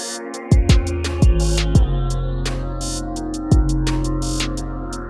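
Trap beat built in FL Studio, with a bright synth pad carrying some high end sustained across the bar, punctuated by deep booming 808 kicks and sharp snare or clap hits at an irregular trap rhythm, loud and upfront, no voices.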